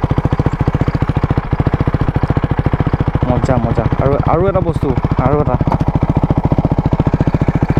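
A modified motorcycle engine idles with a steady, loud, rapid exhaust pulse throughout, while someone talks over it for part of the time.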